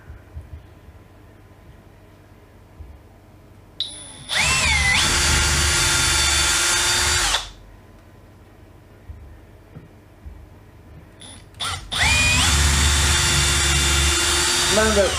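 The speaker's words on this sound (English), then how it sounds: "Drill a couple holes." A power drill whines up and bores in two separate bursts of a few seconds each, loud and close, with quiet between them.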